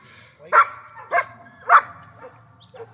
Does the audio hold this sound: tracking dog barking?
yes